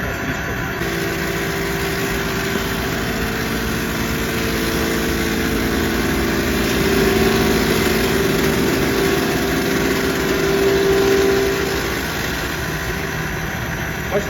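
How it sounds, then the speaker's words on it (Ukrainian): STvega Belt Cutter H200 industrial greens-cutting machine running with the knife at maximum rotation speed and minimum belt feed, giving a steady loud motor drone with a constant whine that swells slightly midway, with no talk. "Зараз ми поставили максимальну швидкість обертання ножа і мінімальну швидкість"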